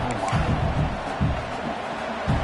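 A football stadium crowd roars continuously during a red zone defensive stand, a broad sustained rumble of cheering with no clear speech.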